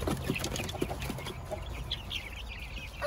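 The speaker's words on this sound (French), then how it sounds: "Avec des poussins de toutes les couleurs." Multicoloured chicks in an outdoor pen cheeping and peeping softly in a busy, scattered chorus, with no voices over them.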